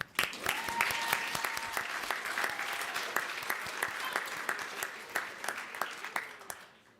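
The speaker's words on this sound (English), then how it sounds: "Clap." Applause at a 2025 inauguration event, a dense, sustained patter of many hands clapping from an audience, steady and fairly loud throughout before trailing off at the end.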